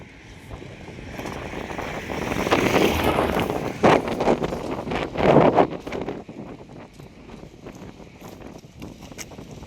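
Strong wind gusts buffet the microphone on a bridge over the Sharavati backwater, a broad roaring rush that swells in the middle with two sharp gust bursts, then eases to a steadier blustery hiss.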